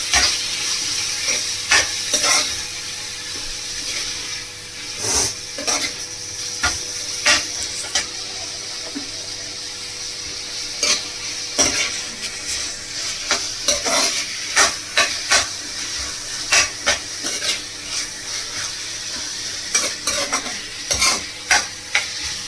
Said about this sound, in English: Saute it a little.